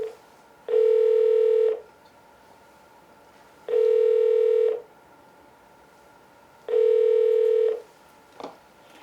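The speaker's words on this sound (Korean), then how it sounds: "한번 제가 전화 연결을 해서 같이 말씀을 나눠보도록 하겠습니다" A telephone ringback tone sounds on a call being connected, with three steady one-second rings spaced evenly apart and a short click near the end, alone with no voices.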